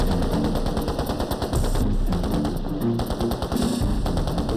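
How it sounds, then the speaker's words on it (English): Automatic weapons fire during a mad minute, several guns on full automatic blazing at once in a loud, sustained, overlapping rattle of rapid bursts. "Every man opens up his weapon on full automatic."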